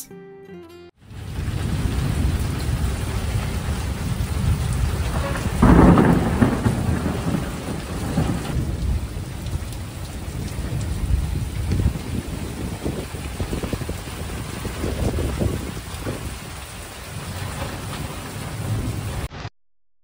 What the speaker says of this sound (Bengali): একটু আগে বৃষ্টি পড়ছিল এই জায়গাটাতে